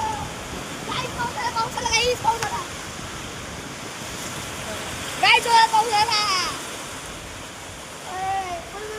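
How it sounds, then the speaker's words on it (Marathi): Heavy rain and gusting wind in a May storm make a steady, close, broadband roar, with several voices talking over the downpour. "हा केवढा पाऊस आलाय बघा."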